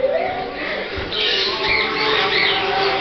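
Quaker parrots in a bird barn give off a busy stream of squawks and chatter, bursts overlapping throughout at moderate distance, with faint voices mixed in.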